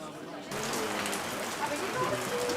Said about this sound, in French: c'est même pas de la pluie qui se met à tomber, c'est de la grêle là.